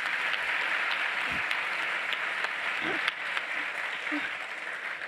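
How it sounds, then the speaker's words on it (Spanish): A crowd applauding steadily, a dense wash of clapping that holds for several seconds with a few louder claps and murmurs underneath. "Un aplauso, por favor"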